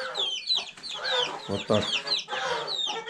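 Month-old chicks cluck and cheep steadily inside a cupboard, several birds at close range, and someone speaks briefly over them.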